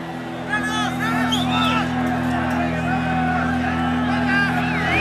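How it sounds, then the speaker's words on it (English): Soccer stadium crowd in Columbus on a cold night, a subdued murmur with scattered whoops and shouts rising over a steady low hum, while a commentator talks over it. "Crowd rather quiet here in Columbus"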